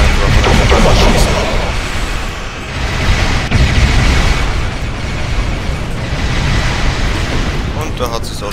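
Cloak attack weapon fire and explosions from a Scimitar class ship in the Star Trek Online space game roar in a dense, continuous, loud barrage, with someone talking over it.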